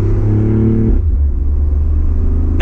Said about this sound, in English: I'm going to go ahead and lower down the windows just so you guys can actually hear the real exhaust system